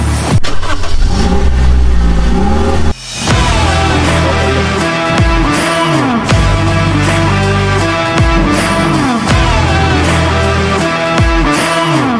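A car engine runs throughout a drive near Pandurucan Bridge in San Jose, Occidental Mindoro, loud and close, with a brief dip early on and then repeated surges as it revs and shifts.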